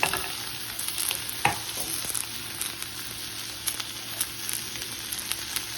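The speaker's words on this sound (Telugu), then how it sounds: "నెయ్యి వేసి తర్వాత కాగిన తర్వాత ఆనియన్స్, టమాటా, మిర్చి, ఎల్లిపాయలు వేసి కాజు వేసి కొంచెం ఫ్రై కావాలి" Onions, tomato, green chilli, garlic and cashews sizzle and crackle in hot ghee, with steady close frying hiss, occasional stirring scrapes and sharp spits throughout.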